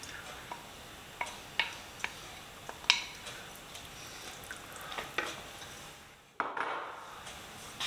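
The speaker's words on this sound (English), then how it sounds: "Gently stir it in." Baked beans are gently stirred into a Durban curry in a pot, with soft scraping and occasional light clinks of the spoon against the pan over a faint sizzle.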